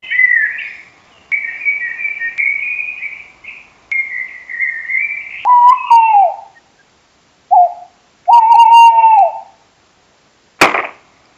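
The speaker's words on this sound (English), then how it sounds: "they're only when the owls are hooting" A recording of owls hooting and birds singing plays back as clear tonal whistled calls, some higher and some lower-pitched, in separate phrases with silent gaps and a sharp click near the end.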